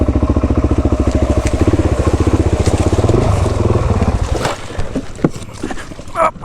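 Kick-started dirt bike engine idling with a steady, loud, fast putter close by, then cutting out and giving way to scuffs and knocks.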